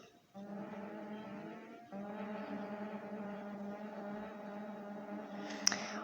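Video game car engine from a mod with Nissan, Lamborghini and Bugatti cars, a steady droning rev that holds pitch, pauses briefly and resumes, ending with a short sharp click.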